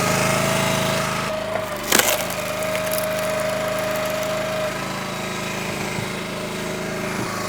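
A running Split-Fire 3490 log splitter drones steadily nearby, broken by one sharp splintering crack as firewood splits, then the engine hum carries on alone.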